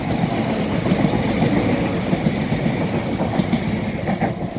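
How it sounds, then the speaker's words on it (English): A train rumbles past close by at Whiteabbey station, a steady low roar with rhythmic clattering of wheels over rail joints throughout. "There's another train coming."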